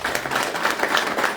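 Church congregation applauding a returning member in a steady burst of close, dense clapping that fills the hall for a moment.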